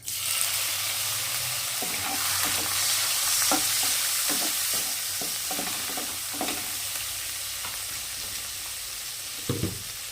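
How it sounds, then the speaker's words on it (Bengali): Shrimp sizzle in hot oil left over from frying lentil dumplings, a steady close crackle punctuated by light scraping and tapping of a spatula stirring the pan, with no voices. "তেলেই দিয়ে দেব চিংড়ি মাছ"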